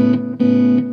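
Electric guitar with its crescendo pedal switched off, two sharply picked sustained notes ringing out with crisp attacks, loud and close with rich harmonics and no talk.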